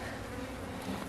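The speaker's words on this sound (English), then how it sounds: "There's a good bee coverage over there." Honey bees buzzing inside an open hive during a colony inspection, a dense, steady droning hum heard up close without a break.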